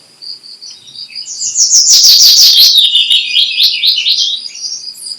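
A high, trilling human whistle imitating a wood warbler's song rises into a fast shimmering run, then trails off in quicker notes, close and clear with nothing else around it.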